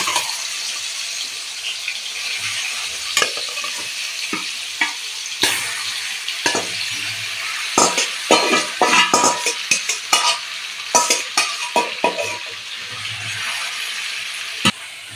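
Marinated chicken sizzles steadily in hot ghee while a spoon stirs it, with scraping strokes and sharp metallic clinks against the pan growing busier toward the middle; no one speaks.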